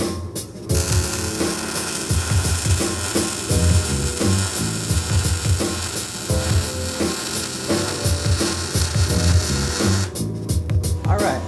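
A Titanium Vulcan MIG welder running at its 1/8 inch setting gives a steady, loud crackling buzz for about nine seconds, starting and stopping cleanly with no talk.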